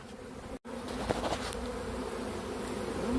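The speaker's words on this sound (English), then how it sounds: "since the swarm's right here, I'll try to get them in a box" A honey bee swarm buzzes steadily close by in a garden, a dense continuous drone with individual bees passing near, after a brief dropout near the start.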